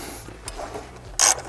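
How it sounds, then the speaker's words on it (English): Ratchet wrench bolting down parts on a Nissan Maxima, a few short clicks of the pawl close up, ending with one louder burst of ratcheting. "Let's bolt these two down."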